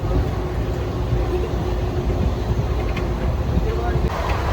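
Steady rumble and rattle inside a moving train, a constant low drone with faint clatter throughout.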